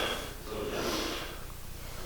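Slow diaphragmatic breathing during a breathing drill: one soft, close breath, a gentle airy inhale turning into an exhale, quiet and without speech.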